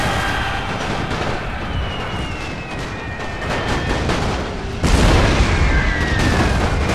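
Battlefield gunfire and explosions from a World War I mod of Napoleon Total War roar continuously, with dense crackling volleys and booms, a sharp swell of heavier blasts near the end, loud and close.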